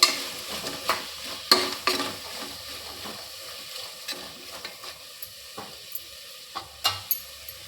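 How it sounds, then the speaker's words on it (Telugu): Potato pieces and peas frying in a pan, a spoon stirring and scraping in irregular close clinks over a soft steady sizzle. "ఆలు ముక్కలు బఠానీలు అవన్నీ కొంచెం మగ్గేంత వరకు మనం అలాగనే కలుపుతూ ఉండాలి."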